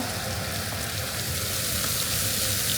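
Garlic sizzles steadily in a hot pan, a dense, even crackle and hiss close by, with no talking.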